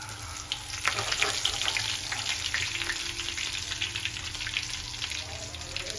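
Curry leaves hit hot oil with cumin seeds, giving a steady, close, loud crackling sizzle with sharper pops near the start, then a continuous hiss with no talking.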